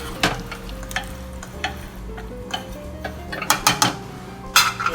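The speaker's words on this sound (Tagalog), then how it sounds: "So now you add the drained canned corn and just mix it in." A spoon stirs drained canned corn into a thick, sticky maja blanca mixture in a pot, with scattered clinks and scrapes against the metal at an uneven pace over a low background hum.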